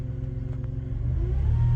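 A 1990 Dodge Grand Caravan with a failing alternator, its engine rumbling close by at idle and then revving up into a steadier, louder drone.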